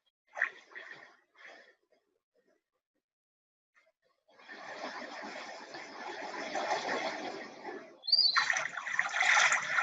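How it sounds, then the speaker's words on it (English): Ocean waves from a Muse meditation headband's soundscape start after a few soft breaths and a quiet pause, then wash in as a steady rushing surf that swells louder toward the end. "that was 5 minutes of listening to the waves of the ocean"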